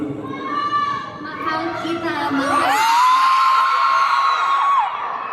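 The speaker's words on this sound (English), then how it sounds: "Do you hear what your fans are saying? Can you understand? I know they're yelling" Fans at a Manila press conference for a film premiere yell and scream, young high-pitched voices shrieking and whooping in a sustained swelling wave, loud and close, with talking mixed underneath at the start.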